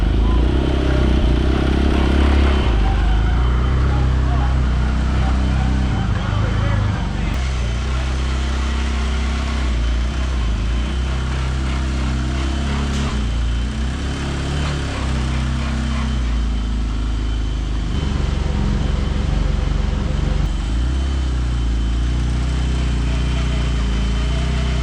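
A Speed UTV engine runs steadily on a dyno after a Full Potential Motorsports upgrade, a loud, continuous mechanical drone with rumbling low end that holds roughly even throughout, with slight surges and dips.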